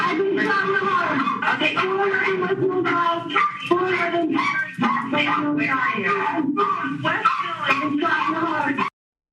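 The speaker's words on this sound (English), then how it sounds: "Dogs could be heard incessantly barking in the background" Dogs bark repeatedly and yip in quick, insistent bursts, close and fairly loud, with little pause between them, in the background of a 911 call.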